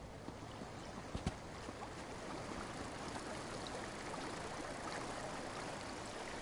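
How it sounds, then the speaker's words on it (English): Steady rushing stream in an Elder Scrolls game, a continuous broadband wash of flowing water with a couple of brief clicks near the start and no voices. "Just the sound of the water."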